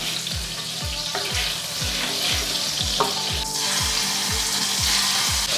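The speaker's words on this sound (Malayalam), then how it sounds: "അത് കഴിഞ്ഞിട്ട് നമുക്ക് ഇതിലേക്ക് ചിക്കൻ ഇട്ട് കൊടുക്കാം." Marinated chicken frying in oil and butter over high flame for butter chicken, a steady loud sizzle with regular rhythmic low thumps throughout and occasional clinks, no voices.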